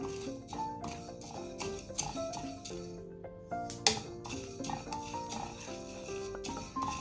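Metal clinks and scrapes from dry spices being stirred in a hot pan for prawn ghee roast, a steady busy clatter of utensil against pan with no talking.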